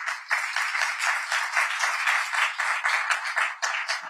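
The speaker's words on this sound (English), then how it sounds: "On behalf of all the audience, a big round of applause" Audience applause at a business program event in Maharashtra, a steady wash of many hands clapping at even strength, moderately loud and continuous throughout.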